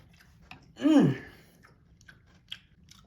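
A single crunchy bite and chew of vintage 1995 MRE pork chow mein with zucchini, one close, loud crunch followed by a few faint soft clicks in quiet surroundings.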